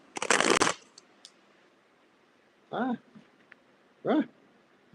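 Tarot cards are shuffled in a quick riffling burst near the microphone, followed later by two short vocal sounds.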